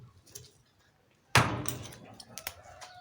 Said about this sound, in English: So you have to hammer it out.